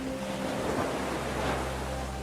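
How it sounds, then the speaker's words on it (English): Ocean surf washes and rumbles in a continuous, fairly quiet wash of noise, with no distinct breaks standing out. No one speaks. "with massive waves crashing all about your ship."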